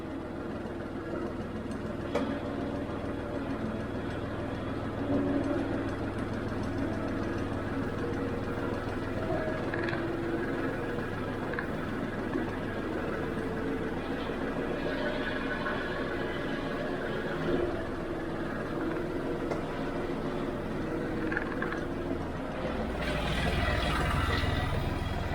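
A John Deere 5055D tractor being parked, its engine a quiet, steady low hum running throughout and swelling slightly louder near the end.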